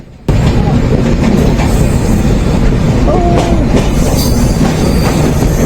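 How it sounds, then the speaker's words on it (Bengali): Kapotakkho Express train on the Khulna to Rajshahi route rolls loudly into Chuadanga railway station, a continuous roar of wheels with rhythmic clatter and a brief squeal, voices faint underneath. "অপতাক্ষ এক্সপ্রেস ট্রেনটি প্রবেশ করছে চুয়াডাঙ্গা চুয়াডাঙ্গা রেলওয়ে স্টেশনে"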